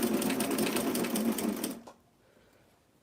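A sewing machine runs steadily, stitching a vintage 90s-style dress with a loud continuous whirring buzz, then stops abruptly, leaving near silence and a small click at the end.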